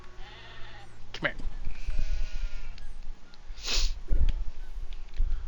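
A sheep bleats in a video game, one clear bleat in the middle with other game noises and thumps around it, while a person talks over it.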